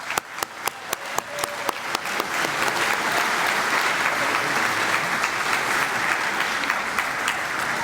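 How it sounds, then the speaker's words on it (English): A banquet crowd at a junior hockey awards night claps, starting with a few sharp, distinct claps up close that quickly swell into dense, loud, sustained applause filling the room. "So how about a round of applause for all of that?"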